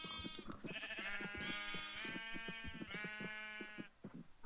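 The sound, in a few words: baby sheep bleating in a video game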